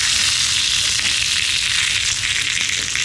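Crushed garlic cloves and a pinch of asafoetida frying in hot oil for tomato rasam, a dense, even, loud sizzle held close for a few seconds without voices.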